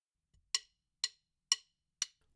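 Four evenly spaced, crisp drum strokes played as a measure of eighth notes for a drum corps reading lesson, each a sharp bright hit with a quick decay, sounding alone in a quiet room.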